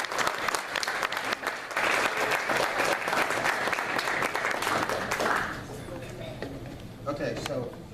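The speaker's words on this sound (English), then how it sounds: "let's have a round of applause for Bob" An appreciation-event audience breaks into loud, dense applause, sustained clapping for several seconds before it thins and fades out, with some crowd voices mixed in near the end.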